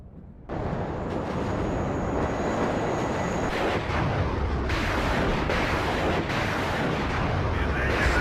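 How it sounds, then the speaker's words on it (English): Artillery strikes in the Cold War real-time strategy game WARNO, heavy rumbling blasts starting abruptly and rolling on into a dense, continuous barrage, loud and close, with a faint voice now and then. "Artillery strikes there."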